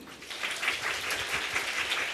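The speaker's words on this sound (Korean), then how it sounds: "소개해드릴 때마다 큰 박수로 맞아주시면 감사하겠습니다" Audience applause greeting a guest at a youth careers event in a hall, steady and fairly soft, continuous clapping from a crowd throughout.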